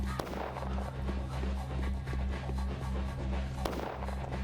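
Gunfire in the video game Pathologic Classic HD: a dense, continuous barrage of booming shots over a steady low game drone, with a couple of sharper cracks standing out.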